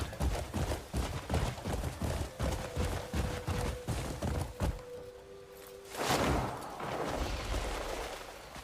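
Horse hooves clatter in the video game Crimson Desert, a rapid galloping clip-clop for several seconds that stops, followed by a short thud and a low rumbling wash.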